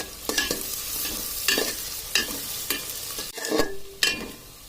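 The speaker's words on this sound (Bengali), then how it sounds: "এবার আমি ভালো করে পেঁয়াজটাকে ভেজে নেব।" Sliced onions frying in hot oil with a little salt, for a meat and soya chunk curry, are stirred with a spatula, giving repeated scraping strokes over a steady close sizzle.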